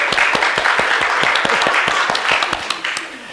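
A church congregation claps in a steady burst of applause, many hands close together, sustained throughout and tapering slightly near the end.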